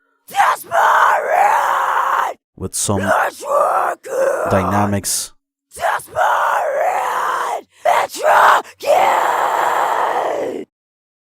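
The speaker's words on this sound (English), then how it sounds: "on vocals, I have here a screaming vocal track" Screaming metal-style vocal track played back during a plugin demo, harsh strained yells in repeated phrases separated by short gaps, loud and close throughout, with a brief spoken remark in between.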